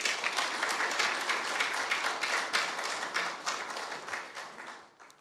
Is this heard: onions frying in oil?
no